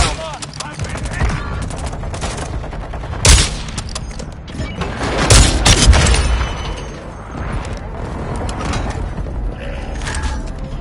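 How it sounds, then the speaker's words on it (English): A friendly precision airstrike in a shooter game sets off rolling rapid gunfire and a few heavy booms. The barrage keeps going steadily, and a voice speaks briefly somewhere in the mix. "Friendly precision airstrike inbound."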